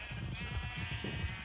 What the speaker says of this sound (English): this is basically where I keep all my sheep